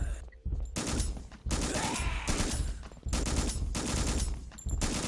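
Gunfire rattles in bursts in the horror video game Gynophobia, loud rapid volleys separated by short silent gaps, with a player's voice faintly audible at moments.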